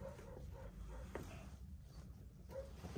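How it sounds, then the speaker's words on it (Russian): A dog in an attic gives faint, distant yips and whimpering barks, a few short calls scattered over a quiet, muffled background. "А что Тишка здесь гавкает?"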